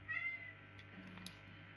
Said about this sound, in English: She's my cat.